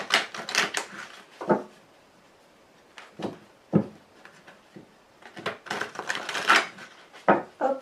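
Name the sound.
cutting a deck of cards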